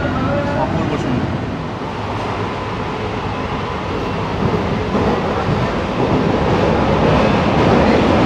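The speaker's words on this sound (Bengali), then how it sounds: "ট্রেন কিন্তু আবার ছেড়ে দিয়েছে" Sealdah to Krishnanagar AC local train running, a steady loud rumble of wheels and carriage noise filling the whole stretch, with faint voices mixed in.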